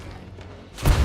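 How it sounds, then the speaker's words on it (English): An explosion in State of Decay 2 lands as a sudden loud boom at the very end, after a second of low rumbling ambience. "So the noise of the explosions is drawing the rest of the zombies in there."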